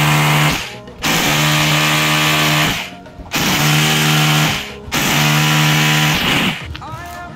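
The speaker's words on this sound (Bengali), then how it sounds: "তো আমার সবার ফার্স্টে আমি ফুটোগুলো করে দেবো" Power drill boring holes into a wall for a TV mount, four loud sustained whining bursts of about two seconds each separated by short pauses, close and dominant.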